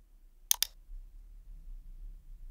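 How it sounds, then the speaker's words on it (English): Two quick, sharp computer mouse clicks close together while working in SketchUp, faint and close against near silence. "Click on another one."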